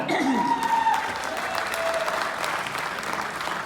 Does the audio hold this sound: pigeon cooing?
no